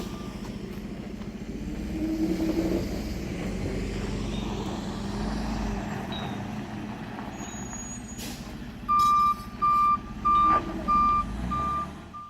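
A drywall delivery truck idles and shifts nearby with a hiss of air brakes, then a run of five evenly spaced reversing beeps rings out clearly near the end.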